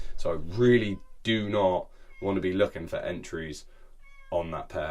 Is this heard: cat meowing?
yes